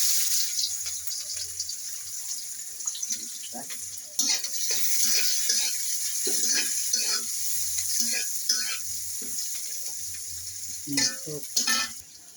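Cumin seeds and onion frying in hot oil for a bottle gourd curry, a soft steady sizzle with intermittent scraping and stirring clatter from the pan, fairly close and alone.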